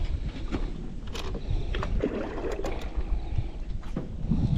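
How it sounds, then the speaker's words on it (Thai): Strong wind buffets a small boat during evening fishing on a river, a constant blustery rush against the microphone with occasional knocks and water sounds, no voices. "แต่ลมแรงจัดเลยอะ"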